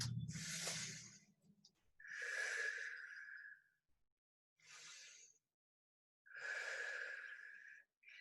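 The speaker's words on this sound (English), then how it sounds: "we'll take 2 deep breaths" Two slow, deep breaths drawn in and let out during a lower-body exercise class, each a soft airy whoosh of inhale and exhale, close and quiet, separated by brief silence.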